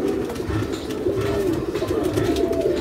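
On a pigeon farm, many pigeons coo loudly and continuously at close range, a thick rolling chorus with no pauses.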